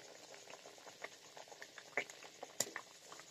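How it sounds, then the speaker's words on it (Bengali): Water coming to a boil in a pot while cooking rohu fish curry: a soft, steady patter of small bubbles with occasional louder pops, faint and close. "দেখুন বন্ধুরা, জলে জাল উঠে গেছে"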